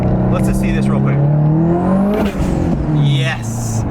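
A built, turbocharged Subaru STI accelerates hard, its engine note rising steadily and loudly through the gears with a brief dip around a shift, while someone talks over it from inside the car.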